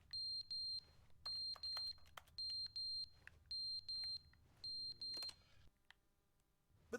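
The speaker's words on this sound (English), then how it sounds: "What is beeping?" Electronic beeping repeats in short, evenly spaced pairs of bright tones about a dozen times, fairly loud and steady like an alarm, then cuts off and leaves a quiet, faintly rumbling room with one sharp click at the end.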